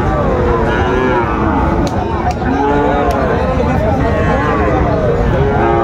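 Sahiwal calves and cattle moo at a cattle market in Chattogram, loud, drawn-out calls that repeat and overlap over crowd chatter and nearby voices.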